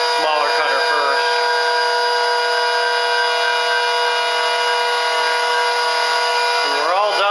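A router fitted with a smaller cutter surfaces a table top, making a loud, steady, high-pitched whine that runs almost unbroken, with short voice fragments at the start and end.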